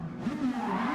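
Race car wheelspin under heavy throttle in Gran Turismo 7, a loud continuous engine drone with rising and falling pitch and tyre squeal, close and without any talking.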